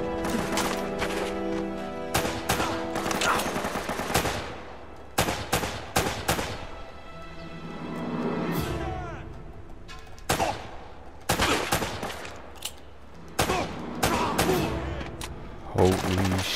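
Video game gunfire in Uncharted: Drake's Fortune, sharp repeated shots in irregular bursts, some rapid volleys and some single cracks, with a short quieter stretch midway.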